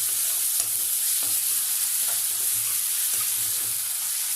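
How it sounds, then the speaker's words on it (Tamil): Chopped tomato sautés in a pan for avalakki chitranna, a constant bright sizzle with soft, regular spatula scrapes stirring through it. "தக்காளி லைட்டாக வதங்கட்டும்"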